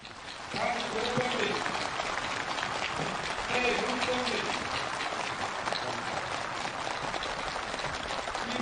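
Enthusiastic applause from participants at a new-housing ceremony for mine workers in the Tanchon district, a steady crowd clapping under a voice talking throughout.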